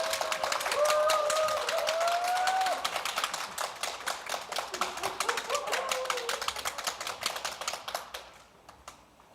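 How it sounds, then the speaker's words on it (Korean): An audience applauds at a university graduate-school conference in Korea, a dense patter of claps that is steady at first, then thins and fades toward the end, with faint voices underneath. "박수로 부탁드리겠습니다"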